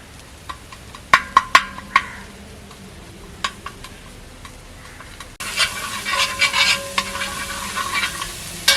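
Mustard seeds tossed into hot oil for Angamaly-style pork varattiyathu, giving a few sharp pops at first, then a dense, loud sizzle and crackle that builds as the seeds splutter, with no talking.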